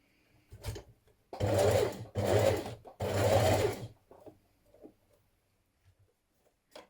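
A sewing machine stitches around a blouse neckline and facing in three short bursts of whirring, separated by brief pauses, followed by faint handling clicks.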